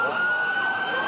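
A steady wailing police siren tone holds over traffic rumble, loud and fairly close, brief and unbroken.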